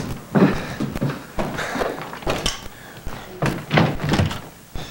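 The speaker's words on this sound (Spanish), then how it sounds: "yo te abro la puerta" Several dull thunks and knocks of a door being handled indoors, irregular bumps and clatters spread across a few seconds, fairly close and moderate in loudness.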